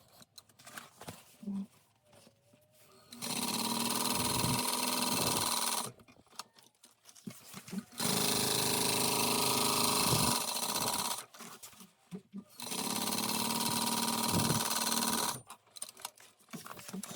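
Sewing machine basting a backpack's front panel to its lining panel, running in three long, steady bursts separated by short pauses, fairly close and loud with no talking.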